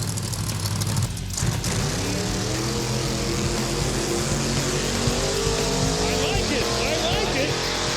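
A V8 Opel drag car makes its run at a drag strip, the engine roaring loud and close with rising revs and gear changes while announcers talk over it.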